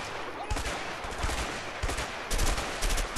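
Gunfire in the video game A Way Out: sustained rapid bursts of shots with a few surges in intensity, loud and continuous throughout.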